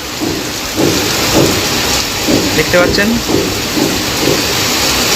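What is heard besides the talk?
heavy monsoon downpour rain in Arambagh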